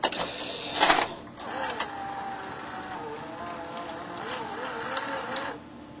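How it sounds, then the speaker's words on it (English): A VCR mechanism loads a cassette tape, giving soft whirring motor sounds and small mechanical clicks and clunks, with faint speech over parts of it. "Here's another view of the tape being loaded."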